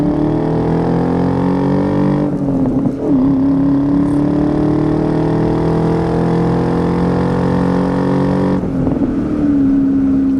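A 2000 Ford Saleen with a 4.6 V8 pulls hard on a test drive, its loud engine drone rising steadily in pitch through a turn, with two brief dips where the throttle eases before climbing again.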